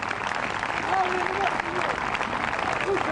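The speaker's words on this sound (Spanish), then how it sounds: "Dame un aplauso de alabanza grande a Dios Todopoderoso" An outdoor crowd at a park event applauds in praise to God, a steady wash of clapping mixed with crowd noise and voices throughout.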